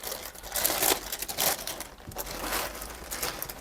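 Plastic packaging bag from a budget AliExpress backpack delivery crinkling and rustling as it is torn open by hand, a steady close-up crackle with brighter bursts throughout.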